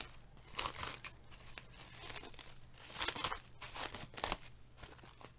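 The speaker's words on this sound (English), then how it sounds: "Let's unwrap this fully." Plastic packaging for a split ergonomic keyboard kit being unwrapped, close crinkling and crumpling in irregular bursts with soft tearing, no talking.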